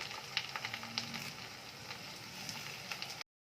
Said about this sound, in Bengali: তেলের মধ্যে আমি কিছুটা আগে কারি পাতা দিয়ে দিচ্ছি